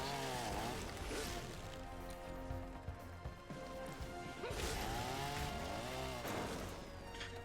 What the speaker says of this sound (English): God, the chainsaw is so stupid, but it's so fun.